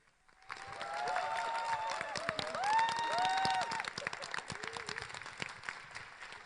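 A lecture-hall audience at Kangwon National University's Baengnyeong Art Center in Chuncheon applauds to welcome Seongnam mayor Lee Jae-myung. The dense clapping swells quickly and holds steady, with tonal cheers or music-like tones riding over it.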